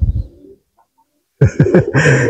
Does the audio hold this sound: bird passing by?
yes